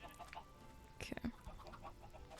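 Chickens in the Minecraft video game cluck in short, quiet bursts, with a brief cluster of clucks near the middle over a faint game background.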